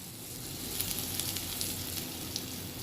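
Asafoetida sizzling in hot ghee in a wok, a steady close crackle with small bright pops scattered throughout, no voices.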